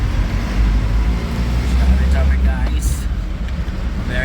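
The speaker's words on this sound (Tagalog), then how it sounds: "Napaka-traffic guys this time. Super traffic." Heavy street traffic in the Philippines, a steady dense rumble of engines and road noise that fills the whole stretch, loud and close, with a voice talking over it.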